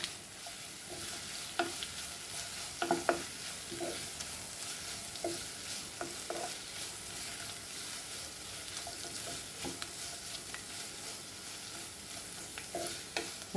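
Onions frying in a pan for Goan sausage pulao give a soft, steady sizzle, broken by repeated scraping and stirring clatters from a spoon against the pan, fairly quiet and with no talking.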